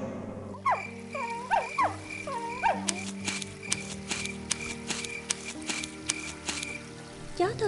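Cartoon dog whimpering in an animated fairy tale: a run of high, wavering whines and yelps up close, followed by short sharp cries and soft clicks over a steady music bed.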